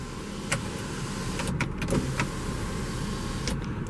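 The panoramic sunroof motor on a 2016 BMW X5 xDrive35i M-Sport whirs quietly as it tilts open to vent. A few faint clicks sound over a low, steady cabin hum.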